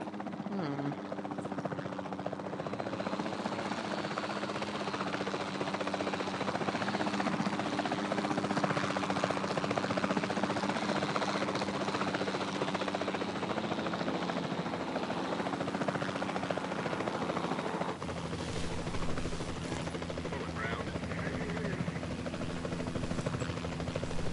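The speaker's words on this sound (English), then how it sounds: "the sensible thing is to take a capture team helicopter." The capture team helicopter in Jurassic World Evolution 2 gives a continuous rotor drone and engine hum throughout, steady and fairly close, with a slight change in tone near the end.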